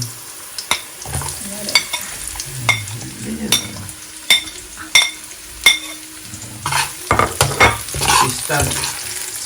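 Onions go into a pan to sauté for Filipino dinuguan (tinungis), with sizzling frying and repeated metal stirring clinks and scrapes, close and fairly loud, while people talk intermittently over the cooking.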